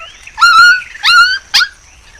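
A cartoon dog gives three high, whiny barks or yelps in quick succession, loud and close, the last one shortest, with no talk.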